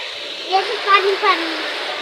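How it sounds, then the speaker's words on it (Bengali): Steady rain falls onto a veranda and garden plants, a dense even hiss close by, with brief voices speaking over it midway. "গাছগুলোর জন্য অনেক ভালো হবে বৃষ্টির পানি"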